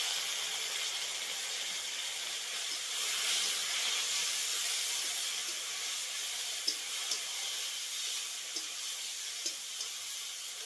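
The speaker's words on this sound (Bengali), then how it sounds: "এবার আমি দিয়ে দিচ্ছি অল্প করে জল।" A little water poured into a hot pan of spiced rohu fish curry with potatoes sets off a soft, steady hiss and sizzle with faint crackles, close but quiet, with no talking over it.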